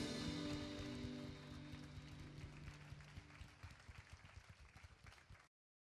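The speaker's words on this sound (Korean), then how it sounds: "우리를 사랑하여 주신 그 주님께 큰 영광의 박수 올려드립니다" A church congregation at an Easter service applauds, dense loud clapping that slowly thins and fades before cutting off abruptly.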